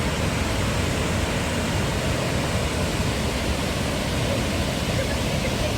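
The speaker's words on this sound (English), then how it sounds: "watching people in the water in front of the waterfalls" Waterfalls at Krka National Park in Croatia roar as a steady, loud, broadband wash of falling water that never lets up, with no distinct events and no clear voices.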